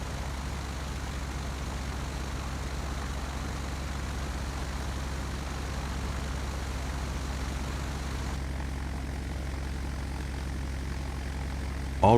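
A Douglas DC-3 propeller airliner taxiing in Flight Simulator X, its engines giving a steady, loud, continuous drone that holds even throughout, with a sudden burst of noise right at the end.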